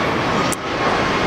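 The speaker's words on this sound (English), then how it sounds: "There we go, we've got a jet star taking off." Jetstar jet airliner taking off at Sydney airport, a loud broad roaring rush of engine noise heard steadily from a distance across the whole moment.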